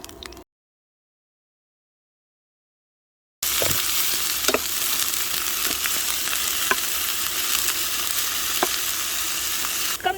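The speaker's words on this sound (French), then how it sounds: "maintenant je vais faire revenir l'ail à la poêle, c'est pour donner du goût aux légumes" Garlic frying in a pan as vegetables cook, a steady bright sizzle with occasional pops and stirring clicks, close and continuous after a brief stretch of silence.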